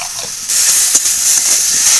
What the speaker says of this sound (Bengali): লবণ দিয়ে সবজিটা একটু ভাজবো